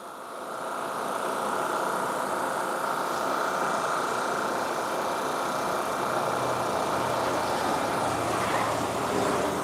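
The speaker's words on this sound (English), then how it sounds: "Big old cement truck running by." A big cement truck drives past close by, its heavy engine rumble swelling quickly and holding loud and steady as it rolls through, with no talking over it.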